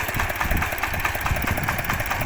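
A tractor fitted with a new Sarathi implement idles with an even, rapid mechanical chugging, close and steady throughout with no talk.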